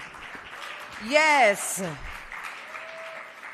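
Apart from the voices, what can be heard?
applause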